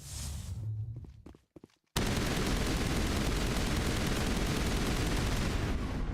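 Gunshots in the video game Mass Effect: a few scattered pops and thuds, then loud, continuous rapid fire that dominates to the end.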